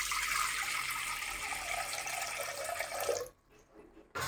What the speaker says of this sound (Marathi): आता आपण पाणी घेऊया.